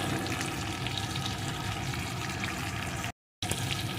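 Taro (gathi kochu) pieces fry in a pan with chilli powder and black pepper, giving a steady, close, continuous sizzle that is briefly cut by a moment of silence near the end.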